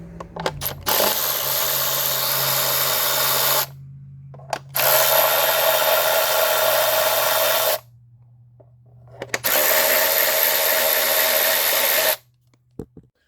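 A power tool, apparently a drill or impact driver, backs out 10 mm fasteners from the engine cover of a 2015 Honda Accord, running in three long loud bursts with brief pauses between and faint clinks of hardware. No one talks.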